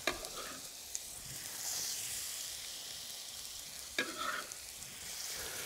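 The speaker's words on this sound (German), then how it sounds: "gebe da jetzt hier den Spargel in die heiße Pfanne" Asparagus frying in a hot pan with olive oil, a steady close sizzle with a few sharp clicks and bursts as the spears shift, no talking.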